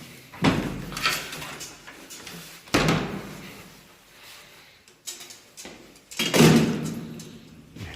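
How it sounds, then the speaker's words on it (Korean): A hostel elevator door in Florence, Italy, is handled: three loud, close metallic bangs of a heavy door shutting, each followed by rattling and a short ringing decay, with quieter clicks and shuffling between them. "문을 닫겠습니다"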